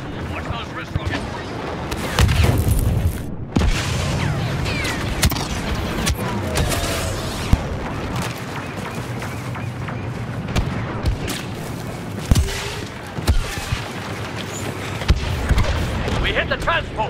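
In Star Wars Battlefront, on Naboo, wrist rockets fire and explosions boom in an ongoing battle: dense, loud bursts and blasts come repeatedly, with shouted voices in the mix.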